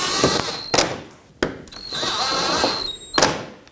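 Power screwdriver driving screws into the plastic lower center grille of a 2012-2017 Toyota Camry SE, with two whirring runs of the tool, each ending in a sharp click, close and loud, with no talk.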